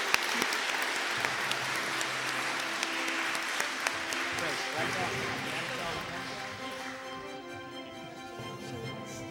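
Audience applause at the National Heritage Week 2024 awards ceremony, a broad steady wash of many hands clapping throughout, easing slightly toward the end.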